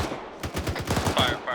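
Gunfire in the military video game Arma 3: a short rapid burst of shots in quick succession, fairly close and sharp, with a faint radio-like tone near the end.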